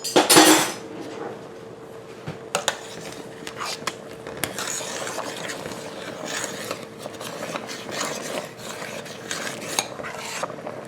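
A spoon stirring a thick cheese sauce in a metal pot, repeated scraping and clinking strokes against the pot at an uneven pace, close by, with a low steady hum beneath.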